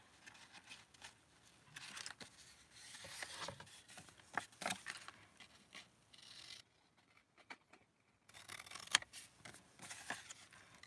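Scissors cut down a Project Life card for a journal: quiet, intermittent snipping and papery rustling that pauses briefly midway, then resumes with a few crisp snips.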